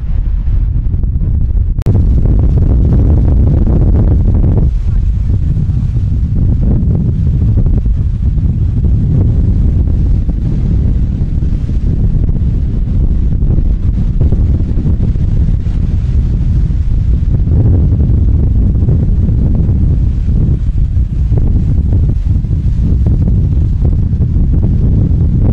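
Strong outdoor wind buffets the microphone at a seaside promenade, a loud continuous low roar that barely changes across the whole stretch, with no talk.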